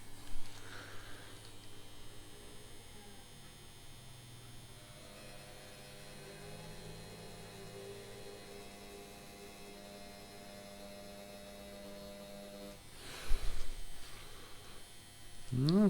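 A Favvosee Nebulla 2 tattoo machine set to speed 7.5 with a small needle gives a steady, close electric buzz that runs unbroken, with a brief louder rustle near the end.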